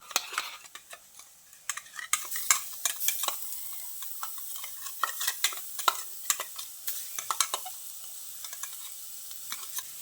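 A drumstick flower mixture tipped into frying potatoes sizzles steadily while a spoon scrapes and clatters against the pan in quick irregular strokes.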